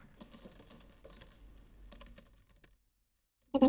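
Rapid typing on a computer keyboard while entering text into a Word document, a soft close patter of irregular clicks running for a few seconds, then falling quiet before a brief louder burst.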